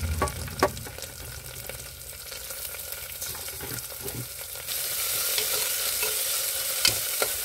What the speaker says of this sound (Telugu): ఆయిల్ కొంచెం వేడెక్కాక ఇందులో ఆనియన్స్ అండ్ చిల్లీస్ అండ్ కరివేపాకు వేయాలి